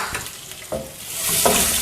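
Chopped onion is sautéed in a pan for araithu vitta sambar: a brief, close sizzle with two or three distinct scraping strokes of a spoon, the frying hiss swelling toward the end.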